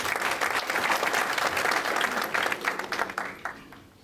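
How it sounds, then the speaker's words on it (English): An audience claps for a panel at a TiE Cloud big data event, a dense, loud burst of applause from a roomful of people that stays full before tapering slightly near the end. "let's give them a big round of applause"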